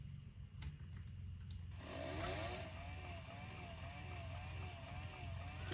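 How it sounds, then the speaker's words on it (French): A video game chainsaw engine revs up after a couple of short clicks, then runs with a buzzing, wavering whine that rises and falls, fairly quiet. "depuis quand tu peux avoir directement une débroussailleuse? Enfin, une tronçonneuse quoi"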